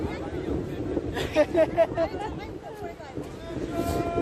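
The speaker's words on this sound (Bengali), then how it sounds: "কি হাওয়া হচ্ছে" Strong wind at Bakkhali, West Bengal rumbles and buffets the microphone steadily while a person speaks over it.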